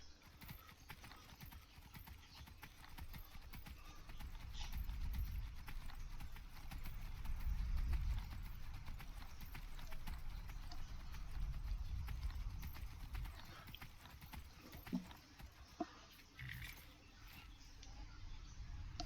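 Horse hooves clip-clop steadily in the video game Skyrim, a soft, quiet, regular trot of footfalls with a couple of sharper knocks near the end and no talking.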